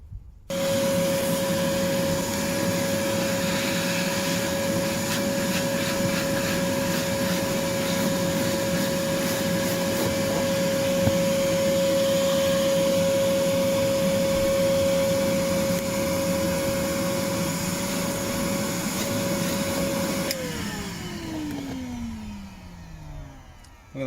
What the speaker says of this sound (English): So now time for some vacuuming on the carpet area all along here.